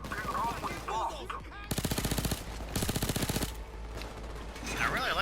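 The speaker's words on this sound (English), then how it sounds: "I really like this assault rifle." Assault rifle in the Payday 2 video game fires two rapid automatic bursts, each about a second long, loud and close, with game sounds and faint voices between them.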